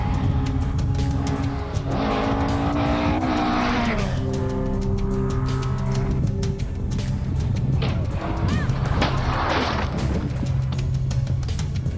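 Racing cars at a motor race roar loudly and continuously, with engine pitch sweeping up and down as cars pass and tires squeal.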